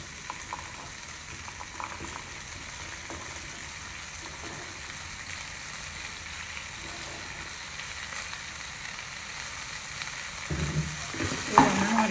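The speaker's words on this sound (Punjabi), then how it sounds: "ਆਈ ਆਪਾਂ ਸਾਰੀਆਂ ਗਾਜਰਾਂ ਵਿੱਚ ਪਾ ਲੈਣੇ ਹਾਂ" Carrots go into a frying pan of sizzling vegetables for a carrot and pea sabzi. A low, steady sizzle runs throughout, and stirring scrapes and clatters stand out near the end.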